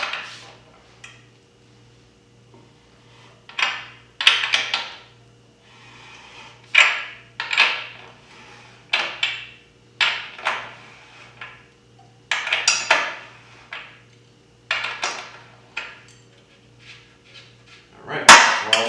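Metal clanks and sharp ratcheting clicks from a 1/2-inch breaker bar on a 32mm socket while loosening the rear wheel nut of an Aprilia RSV4, in bursts of several close, fairly loud knocks and scrapes with pauses between, no talk.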